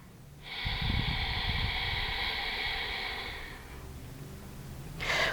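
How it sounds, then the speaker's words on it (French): Ujjayi breathing in a yoga practice: one long, steady, hissing breath held for several seconds, close and fairly soft, followed by the start of another breath. "commencez à ressentir votre respiration Ujjayi"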